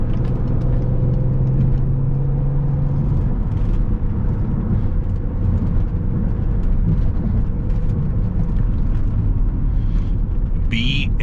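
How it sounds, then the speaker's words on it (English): BMW X5 xDrive35d twin-turbo diesel engine while driving on a Southern California freeway, a steady low rumble with road and wind noise throughout, with talking over it. "This car just makes me happy because it's the engine. It's a diesel."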